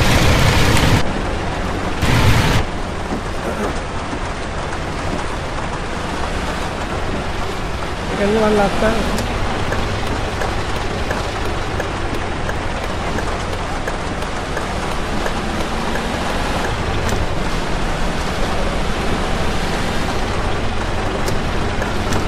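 Heavy rain falls in a driving game with a truck, bikes and buses racing, a steady loud hiss that runs through the whole stretch while someone talks over it at times.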